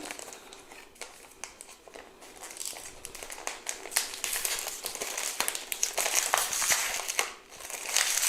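Close crinkling and crushing of plastic packaging as it is pried open to reach spare parts for a Bruder JCB 5CX toy backhoe loader, irregular crackles building in loudness with no speech.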